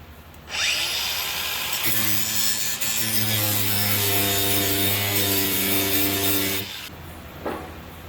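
An angle grinder cuts into a truck's window regulator: a loud, steady grinding whine with rasping metal friction that runs nearly six seconds before cutting off, followed by a brief knock.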